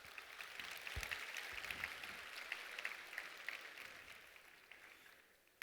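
A business-conference audience at a YouTube advertising event in Japan claps steadily for several seconds, a soft, distant wash of applause that fades out toward the end.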